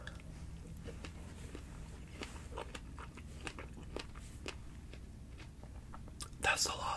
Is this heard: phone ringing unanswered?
no